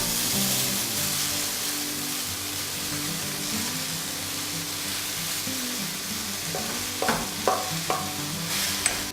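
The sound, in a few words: watermelon rind curry being stirred and fried in a pan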